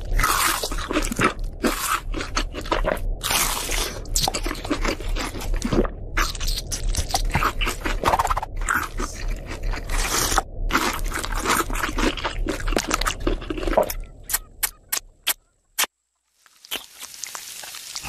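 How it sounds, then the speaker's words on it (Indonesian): Crunching bites of crispy fried chicken from an Upin & Ipin cartoon scene, a steady run of loud, close crisp crunches and chewing that thins out near the end into a few isolated clicks. "Sedapnya ayam goreng."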